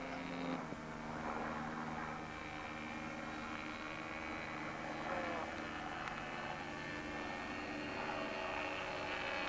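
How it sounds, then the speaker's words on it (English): A propeller aircraft drones steadily overhead at an early model airfield, a continuous engine hum with a tonal whine that stays loud and even throughout, with no clear voice over it. "Not much of a background to see the plane either."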